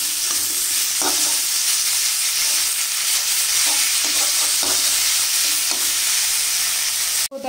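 Sweet potato leaves and other leafy greens fry on low heat in a pan, a steady sizzling hiss with occasional soft stirring scrapes, close and continuous, ending with a brief clatter.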